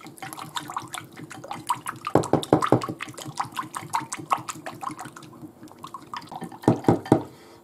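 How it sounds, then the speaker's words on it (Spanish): Olive oil, vinegar and a pinch of salt being whisked for a salad dressing make quick, rapid clicking and tapping strokes against a bowl, close by, in bursts that speed up and pause. "echamos el vinagre una pizquita de sal y lo batimos"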